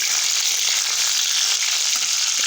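Slit green chillies frying in hot oil in a pan for a spiced Indian masala pasta, a steady, close, even sizzle with fine crackling throughout and no talk.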